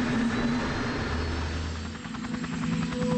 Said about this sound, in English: Oh, it's not just a helicopter.